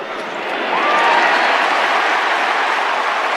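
Home crowd at a Fremantle versus GWS AFL match roaring as Rory Lobb kicks a goal, a loud sustained cheer swelling up after the first half-second and holding.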